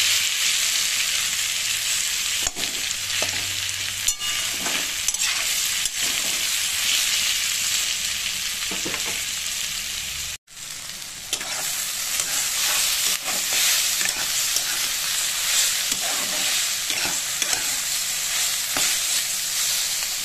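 Potatoes fry in a pan with a steady, loud sizzle, interrupted by scraping stirs and taps of a spatula, with a short break in the middle before the hiss resumes.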